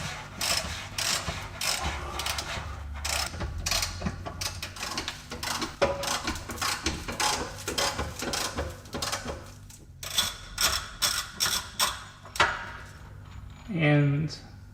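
A ratchet wrench clicks repeatedly on a 15 mm bolt while a Jaguar S-Type differential is removed, with bursts of ratcheting, metallic knocks and brief pauses, close up in a workshop.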